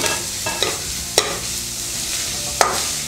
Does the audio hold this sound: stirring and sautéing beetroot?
yes